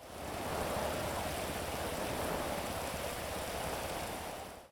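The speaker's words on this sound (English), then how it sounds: "rain goes through all security checkpoint booths, not just these at the airport, but everywhere, like here at Fort Zancudo" Rain falls at the Fort Zancudo checkpoint booth in the video game GTA 5, a steady, dense hiss that holds evenly at close range for the whole stretch, with no voices over it.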